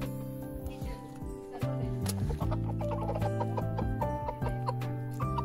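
Hens clucking and chattering close by in a village yard as they peck at chopped watermelon, steady murmuring calls throughout with people talking over them.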